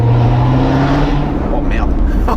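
Corvette C7 Z06 with manual gearbox running in sport mode with its exhaust valves open, a loud, steady low engine drone filling the cabin, with a voice speaking briefly over it near the start.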